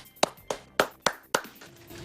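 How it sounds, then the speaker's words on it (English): Sparse, slow claps, about five distinct sharp hand claps spaced evenly and close to the microphone, given as a round of applause for frontline and essential workers. "let's continue to thank our frontline and essential workers with a round of applause"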